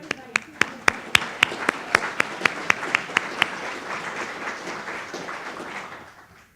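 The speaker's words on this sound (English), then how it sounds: "I would like everybody to applaud the work of the people who have done it." A keynote audience at a lunch session breaks into applause, a few loud, evenly spaced claps standing out close by over a steady wash of clapping that carries on, then fades away.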